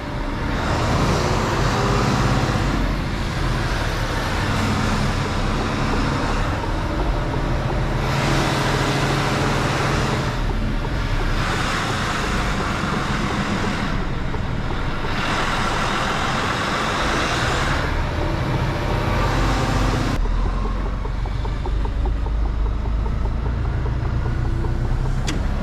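A Mercedes Actros L semi-truck reversing through a very narrow street, its diesel engine a steady, close, loud rumble with road and mechanical noise that surges and eases in broad waves.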